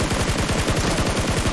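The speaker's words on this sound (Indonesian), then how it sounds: "Itu ada tembakan kanan arah 300." Rapid burst of gunfire in the video game PUBG Mobile, a fast rhythmic stream of shots firing continuously, loud and close.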